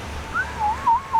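A clear whistled quetzal bird call repeats several times, rising then falling, alone against a faint low background.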